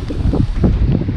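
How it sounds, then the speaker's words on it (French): Strong wind sweeping across open water while fishing, loud gusty buffeting on the microphone in steady pulses, with no voices over it. "il y a de plus en plus de vent."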